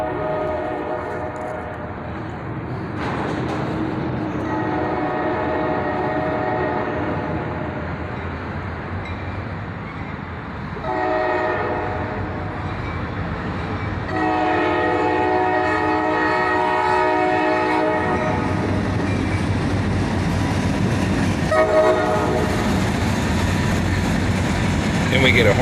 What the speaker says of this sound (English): we get a horn salute from the engineer there as a pair of SD42s lead